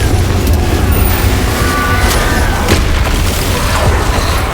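A Confringo fire spell blasts in the video game Hogwarts Legacy, with dense booming explosions and crackling bursts layered continuously under battle noise.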